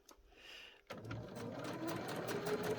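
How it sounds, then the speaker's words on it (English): Close and moderately quiet, a sewing machine starts up and runs steadily, stitching down a pleat in tartan fabric for a doll skirt with an even mechanical whirr. "very carefully, just on the edge, sew that pleat down"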